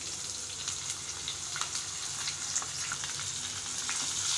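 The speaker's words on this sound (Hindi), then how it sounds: "प्याज को हम गोल्डन ब्राउन होने तक फ्राई कर लेंगे।" Chopped onion frying in oil with cumin seeds, giving a soft, steady sizzle and crackle with faint scattered pops. The sound is quiet but constant and heard alone, with no voices.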